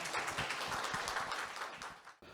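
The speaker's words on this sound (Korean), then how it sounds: "다시 한번 큰 박수 부탁드리겠습니다" An audience at a government briefing on new AI-based welfare projects gives a round of applause. The dense, fairly soft clapping runs steadily, then thins and fades out near the end.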